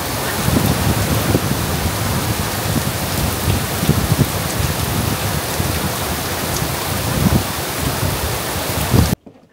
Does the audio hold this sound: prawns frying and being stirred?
no